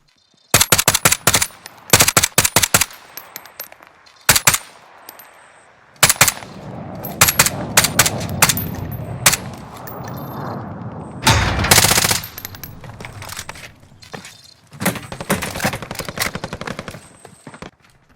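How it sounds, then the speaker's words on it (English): Rapid bursts of automatic gunfire from shooting on a rooftop in the video game Warzone, loud, close and repeated across the clip, with gaps and short single shots between the volleys. "I'm going to show you guys me shooting on a rooftop"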